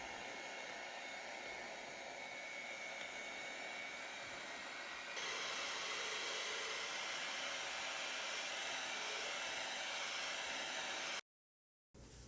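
Blender whipping sweet potatoes in a kitchen, a steady loud motor whir that steps up in intensity partway through, then cuts off abruptly near the end.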